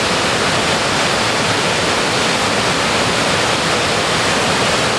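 The Boulder River near Big Timber, Montana, rushes past a rock outcrop in a dense, steady roar of flowing water, loud and unbroken throughout.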